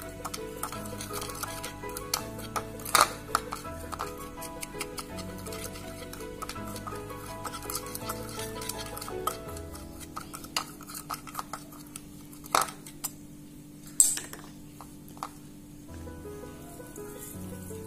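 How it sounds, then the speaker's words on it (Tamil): Chilli powder, chaat masala and salt are tossed into fried macaroni in a bowl: faint scattered clinks and scrapes of a utensil against the dish, soft and irregular over a quiet low hum, with a few sharper taps. "வத்தப்பொடி, சாட் மசாலா, உப்பு இவ்வளத்தையும் மிக்ஸ் பண்ணிட்டு"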